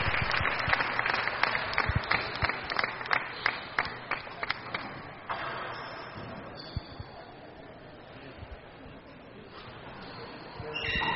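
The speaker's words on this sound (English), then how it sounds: "Listen to this crowd." Crowd at a Kansas City racquetball semifinal applauds after a rally, starting as sharp, spaced claps that thin into a softer, scattered patter, heard at a distance with a commentator talking over it.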